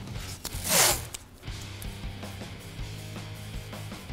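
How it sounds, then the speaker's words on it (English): Masking tape being pulled off the roll and pressed along the black frame of a Ford F-150 pickup, with one loud ripping pull, then softer rubbing and faint clicks, close and alone. "Use masking tape to mark a straight line along the frame."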